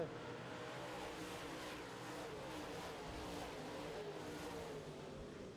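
Modified race car, the Mark Brandt Trucking 29K, going back on the throttle at a green-flag restart during a modifieds feature race at an oval track. A steady, loud engine roar blends with other cars, with no voices.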